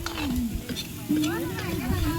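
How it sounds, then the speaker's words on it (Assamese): Small potatoes fry and sizzle in a pan at a lakeside picnic, with steady close crackling and stirring scrapes while voices talk over it. "গুটি আলু ভাজি আছে"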